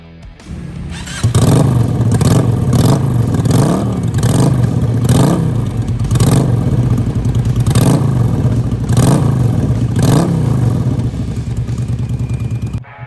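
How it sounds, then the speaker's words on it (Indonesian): Custom motorcycle built from a Suzuki V16 revving at low RPM with a deep, Harley-like rumble, loud and close, in a series of rhythmic throttle blips over a steady idle, no talking. "Nah hasilnya suara RPM rendah kalian bisa mirip-mirip dengan Harley Davidson."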